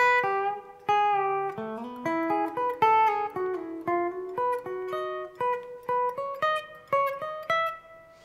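A clean guitar plays a short melodic phrase of single plucked notes, evenly paced and moderately quiet, each note ringing briefly.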